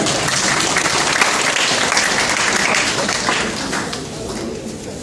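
An audience at a business talk applauds, a loud wash of many hands clapping that holds steady and then thins slightly toward the end, with faint voices underneath.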